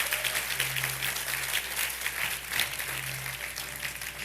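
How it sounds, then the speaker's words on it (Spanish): A church congregation claps for a fellow member during a Spanish-language sermon, sustained broadband applause at an even level with a low steady hum running beneath it. "denle ese aplauso y acompañen a nuestro hermano ahí fuerte"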